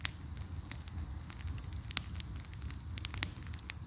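Outdoor campfire crackling at a compound at dusk, scattered sharp pops and snaps over a soft steady hiss, fairly faint and close, with no talking.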